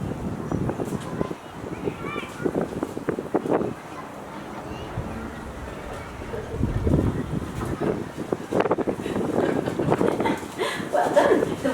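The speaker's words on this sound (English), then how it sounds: "The wind is not helping us today. It is not our friend." Wind buffeting a microphone outdoors at a wedding ceremony, a continuous rumbling roar with gusty swells throughout, and voices talking beneath it.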